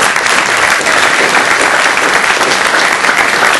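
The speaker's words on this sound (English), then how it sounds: "So I'd like to applaud you guys." Loud, sustained applause from a room of college Republicans at a UNLV event, a dense steady patter of many hands clapping at once with no pauses.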